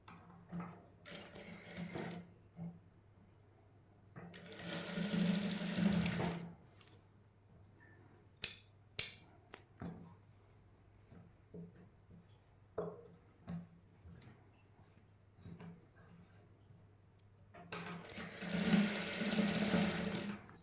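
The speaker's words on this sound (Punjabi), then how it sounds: "ਇਸ ਤਰ੍ਹਾਂ ਸਲਾਈ ਲਾਉਂਦੇ ਜਾਣਾ ਹੌਲੀ ਹੌਲੀ" A sewing machine stitches fabric for a garment, running in two longer bursts of steady mechanical whirring with quiet handling clicks and pauses between them.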